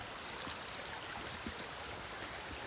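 Water streams steadily along an old mill canal, a constant close rushing wash that fills the whole moment with no voices.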